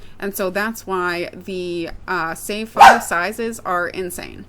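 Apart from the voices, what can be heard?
dog barking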